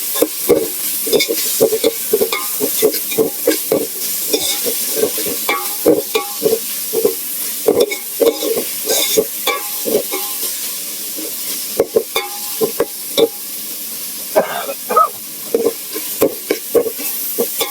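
Onion and curry leaves fry in a pan with a loud, close sizzle, while repeated scraping stirs come in an uneven rhythm throughout, without speech.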